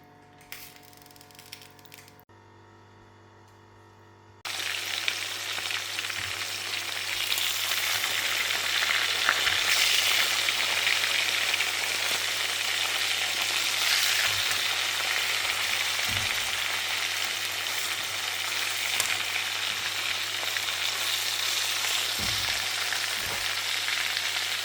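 Butter melting into olive oil in a pan, starting with a faint hum before breaking into a steady, close sizzle with occasional clinks, continuing evenly for a long stretch.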